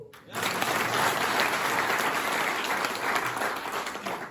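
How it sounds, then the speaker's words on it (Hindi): An audience at a motivational wellness speech breaks into sustained applause, dense and loud from start to finish with no talk over it. "ताली बजाओ।"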